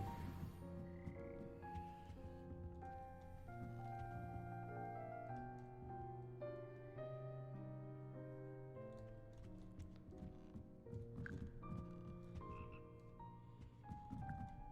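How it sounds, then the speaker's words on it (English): A frog choir in the Hogwarts Legacy video game croaks and sings along with layered musical tones, quiet and continuous, with a rhythmic ticking texture throughout. "Frog choir. Teaching frogs to sing."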